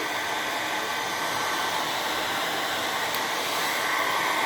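A hair dryer blows steadily on freshly washed hair, a loud, even broadband whoosh that holds without a break from start to finish.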